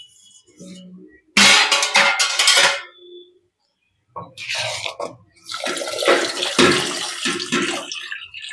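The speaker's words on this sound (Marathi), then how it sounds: "पहिल्यांदा भात धुवून झालाय." Rice is washed by hand in water at a home kitchen, with bursts of sloshing and splashing separated by a brief pause, the second stretch longer and steady, close and fairly loud.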